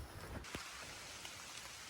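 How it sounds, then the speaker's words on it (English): Rain falls by a lake along the Appalachian Trail, a faint, steady hiss of drops with a few soft bumps and no talking. "This is the lake, and it's raining."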